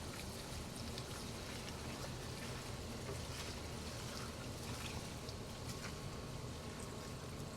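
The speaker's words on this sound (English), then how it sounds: "next, cold water. We're gonna fill in 45 cups of water." Cold water poured into a pot of rice for sushi rice, a steady close rushing, splashing stream that continues evenly and fairly quietly without a break.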